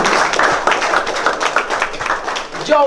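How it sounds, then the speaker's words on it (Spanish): Strong applause and scattered clapping from a crowd at a rap battle, a dense continuous patter of hand claps filling the clip, with a voice briefly heard near the end. "Fuertes aplausos"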